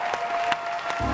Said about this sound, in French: On applaudit pour Bétio Lolas.